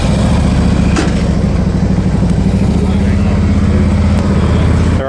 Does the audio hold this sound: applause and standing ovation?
no